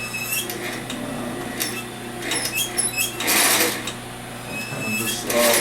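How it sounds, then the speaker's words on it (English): A sewing machine stitches around the edge of a bag, its fast mechanical chatter running steadily and close, with brief louder bursts and clicks as the fabric is guided. "I'm just sewing this around to give it like a little fake stitch look."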